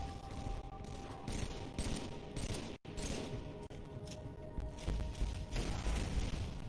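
Rapid, sustained gunfire from the video game Halo 3, dense bursts of shots and booms almost without pause, loud and close, with a brief cut partway through.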